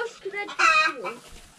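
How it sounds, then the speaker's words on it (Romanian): A hen gives a short, loud burst of clucking close by, with a rising squawk in the middle. "să vedem unde e găina care face ou"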